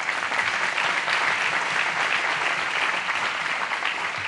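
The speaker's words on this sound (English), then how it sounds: "Let's give him a round of applause for that." Audience applause at a Lincoln Day Dinner, dense sustained clapping from a large room, loud and even from start to finish.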